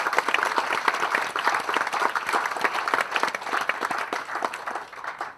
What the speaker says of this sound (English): A round of applause for all those folks.